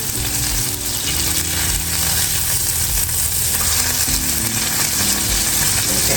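Salisbury steak patties frying in a pan, a loud, continuous crackling sizzle close to the mic with faint stirring and scraping beneath it, and no voices.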